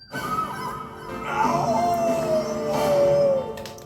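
On a Sonic Unleashed loading screen, a long, sustained howl rises and slowly falls, drawn out over several seconds above a soft, ambient game-music backdrop.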